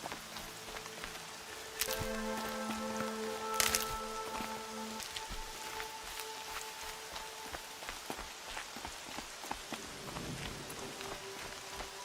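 Rain in the video game Horizon Zero Dawn pours steadily with a dense patter of drops, mixed with soft tonal game music and a few brighter splashes, with no voices.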